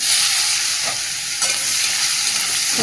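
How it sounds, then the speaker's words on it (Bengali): Onions stir-fried in oil with panch phoron, dry red chilli and a bay leaf, a loud, close hiss and crackle with occasional spatula scrapes against the pan, no talking. "পেঁয়াজটা একটু নেড়ে নিয়ে তারপর সবজিটা দিয়ে দেবো"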